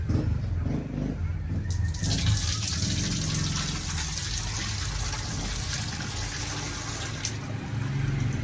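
Squeezed coconut milk being poured through a strainer makes a continuous, fairly loud liquid gush and splash close by, steady throughout with no pauses.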